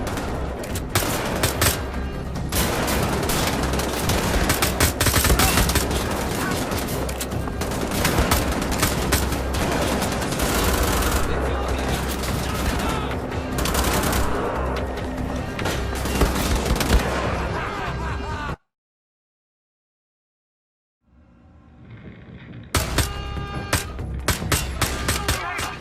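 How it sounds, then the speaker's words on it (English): Sustained rapid gunfire from the video game Wolfenstein: The Old Blood, dense bursts of shots shooting Nazis with battle noise, then a short silence before the firing resumes loudly. "Shoot those Nazis, Blazkowicz!"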